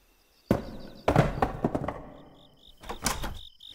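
A door is opened, giving several heavy knocks and thumps with a wooden rattle, followed by softer scraping and another burst of thuds, close and loud over quiet background.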